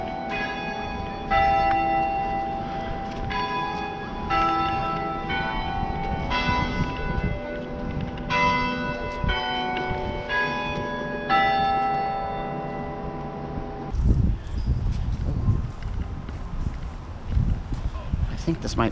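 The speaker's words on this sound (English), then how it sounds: "Ooh, church bells." Church bells in a Savannah, Georgia square ring out at noon in a steady sequence of bright, resonant strikes, with footsteps and a voice in the background; the tolling gives way to louder nearby activity toward the end.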